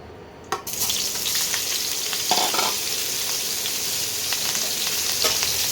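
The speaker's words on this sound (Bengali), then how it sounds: "এবারে ভাপানো ফুলকপিগুলো এবারে আমি ভেজে নেব" Steamed cauliflower florets frying in a pan of oil for a shahi cauliflower dish, a steady broad sizzle with a few stirring scrapes and pops, close and continuous throughout.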